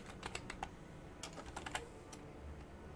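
Computer keyboard typing, a quick irregular run of light clicking keystrokes in short bursts with pauses, close but fairly quiet, no voices.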